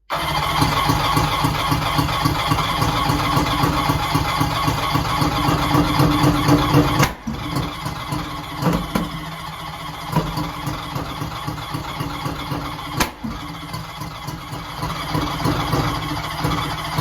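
An engine running with its spark plugs firing, a loud, fast, even pulsing that abruptly drops after about seven seconds to a quieter, rougher beat with occasional sharp clicks.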